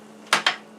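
A spatula clinks twice against a pan while lifting oat pancakes off it, two quick close metallic taps over a low background hum.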